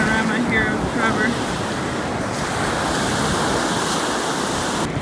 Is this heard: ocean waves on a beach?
yes